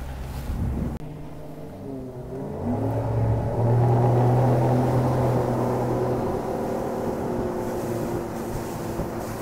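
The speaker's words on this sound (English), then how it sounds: "This boat is equipped with the Mercury's hydraulic steering system. Let's take it for a ride, see what she has." A Lund 1875 Pro V boat with a Mercury outboard starts up and revs, then settles into a steady, loud engine drone as it gets underway, with no talking.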